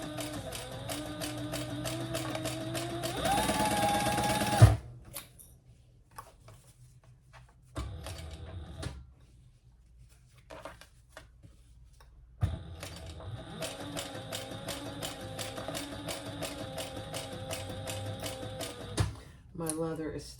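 Sewing machine stitching a straight seam along the top edge of leather pieces for a waist pack, running in steady mechanical bursts separated by pauses, with speech heard between runs.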